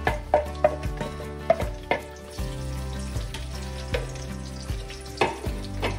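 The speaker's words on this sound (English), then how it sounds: "I'm gonna take the onions that I sliced and I'm gonna put it in this oil that I got right here" Sliced onions fry in a mix of canola and palm oil, a steady sizzle punctuated by repeated sharp clinks and knocks of a utensil against the pan, with a low background hum.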